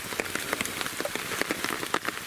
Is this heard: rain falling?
yes